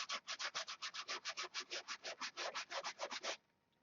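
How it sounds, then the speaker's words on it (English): Hand sanding with 180 grit sandpaper during paint prep at a bench, around twenty quick, even rasping back-and-forth strokes, close and steady, then stopping. "So remember what I told you about let the sandpaper do the work for you? Well, this is 180,"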